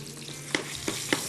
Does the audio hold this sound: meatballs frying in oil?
yes